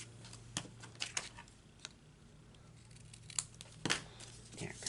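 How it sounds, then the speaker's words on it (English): Quiet snips and crinkles come from paper being trimmed for a pop-up slider card, a few scattered cuts and rustles heard close up under a faint steady hum. "I'll trim that off a little bit"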